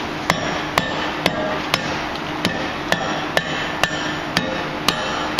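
At a forge, a blacksmith's hammer strikes hot iron while forging a pintle, ringing out in loud, evenly spaced blows, about one every half second, with no talking.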